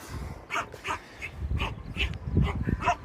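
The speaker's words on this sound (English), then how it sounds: "As you can hear, Scruffy's found a rock" A small dog is active and playing with a rock, with repeated short yips, whimpers and snuffling at close range, outdoors on a few days' stay in Portreath.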